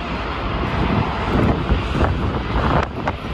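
Airplane taking off, a loud broad jet roar with gusting wind buffeting the microphone, sustained and fairly close with no voices over it.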